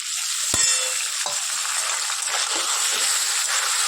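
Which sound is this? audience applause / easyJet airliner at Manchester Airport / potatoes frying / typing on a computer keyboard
potatoes frying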